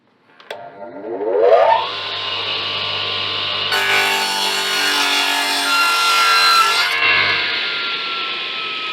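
Max circular blade on a miter saw cutting wood: the motor spins up with a rising whine, then the blade bites with a loud, close, rough sawing roar for a few seconds before easing back to a steady free-running whine.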